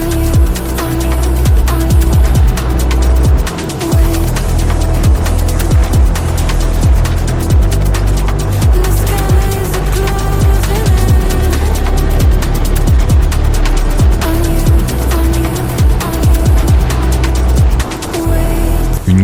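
A BMW R1300GS motorcycle rides along dirt tracks, its engine droning loud and steady throughout with rough, gritty road noise and wind rush close by.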